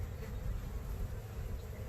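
Honeybees buzzing around an opened hive during an inspection, a steady close hum that stays level throughout with no voices.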